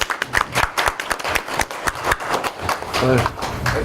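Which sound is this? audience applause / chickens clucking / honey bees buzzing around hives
audience applause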